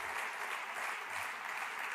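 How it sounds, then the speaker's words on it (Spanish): Steady applause from a professional claque fills the background, dense and continuous clapping throughout with no pauses. "Y por supuesto los aplaudidores profesionales aplaudiendo de fondo."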